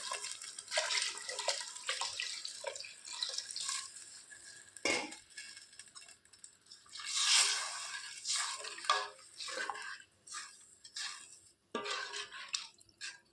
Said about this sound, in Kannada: ನೀರನ್ನು ಹಾಕುವ.